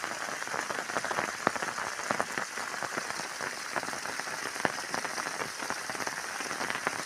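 Steady rain pours down outdoors, with water falling and flowing in a dense, continuous hiss and patter that stays close and even throughout, with occasional sharper drop splashes.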